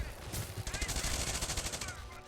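Rapid video game rifle fire rattles in fast bursts, a dense automatic gunfire stream cutting through the game's sound effects, with no speech over it.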